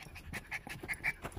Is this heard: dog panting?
yes